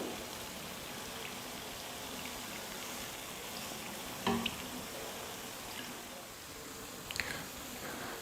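Sweet bonda batter frying in hot oil, a steady dense sizzling and bubbling hiss throughout with a couple of faint clicks, close and continuous with no speech.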